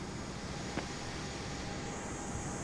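Airliner taking off in Microsoft Flight Simulator 2020, a steady broadband engine roar that holds evenly throughout at a fairly low level.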